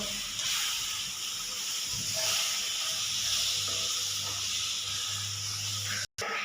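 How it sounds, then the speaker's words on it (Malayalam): Banana frying in a pan for a banana and egg dish gives a steady, close sizzling hiss that runs unbroken, with a low hum beneath and a brief cut near the end. "ഇനി നമുക്ക് കളറ് മാറുന്നത് വരെ മുരിച്ചെടുക്കാം കേട്ടോ"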